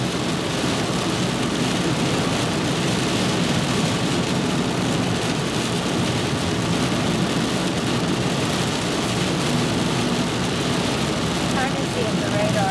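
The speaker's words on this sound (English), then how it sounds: "It's been raining nonstop for about 3 hours." Steady heavy rain roars continuously, a dense wash of noise with a low rumble underneath, unchanging from start to finish.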